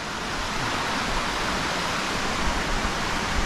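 A waterfall on the Watkin Path in Snowdonia gives a steady, dense broadband rush of falling water, continuous and unbroken with no voices.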